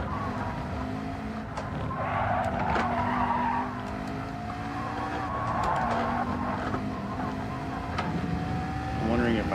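A race car in a racing video game brakes hard as its tires skid and squeal over a droning engine, sustained and close, with someone talking over it.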